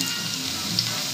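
Whole spices, including cardamom, cinnamon, cloves and bay leaves, sizzle steadily in hot oil for a mutton biryani, a constant close crackling fry with no talking.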